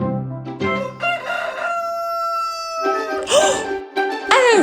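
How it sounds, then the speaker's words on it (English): A rooster crows loudly and close, a full cock-a-doodle-doo with harsh rising and falling notes, followed by a few shorter squawks. "A rooster."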